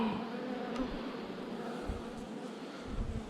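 Bees buzz in a dense, steady drone around an open beehive on a cold, windy day. The sound is fairly close and continuous, with wind rumble underneath and no talking.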